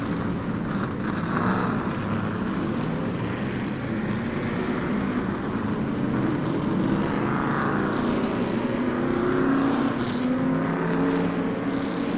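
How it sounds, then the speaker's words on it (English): Street stock race cars roll out onto the track at Boomtown Speedway for driver introductions, a continuous mixed engine rumble from several cars, some moderately close, with no voices. "Let's get these cars out onto the track for drivers' introductions."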